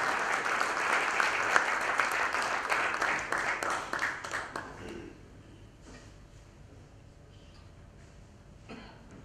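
A crowd at an investors' day event claps loudly for about five seconds in a dense, steady burst, then the applause thins out to scattered claps and a few coughs before fading into room noise.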